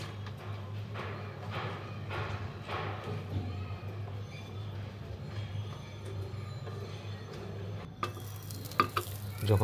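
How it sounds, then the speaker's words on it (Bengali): Eggs, spinach and tomato are mixed together with a utensil in quick, rhythmic strokes over a steady low hum, then a few sharper knocks follow near the end. "আমি এখন সবগুলোকে খুব ভালো মতো মিশিয়ে নিচ্ছি।"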